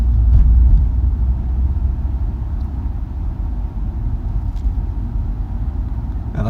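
Car driving slowly through the town streets of Fredericksburg, Texas, heard from inside as a steady low engine and road rumble, fairly loud and continuous, with no talking.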